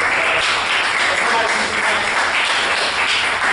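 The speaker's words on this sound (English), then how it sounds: "so we just give a big round of applause to Ironhack" Audience at an Ironhack workshop applauding, a steady wash of many hands clapping throughout, moderately loud with no clear pauses.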